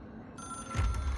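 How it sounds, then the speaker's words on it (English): A telephone rings in the video game Control, a steady electronic ring that starts partway through and swells louder toward the end over a low rumbling background. "It is a phone."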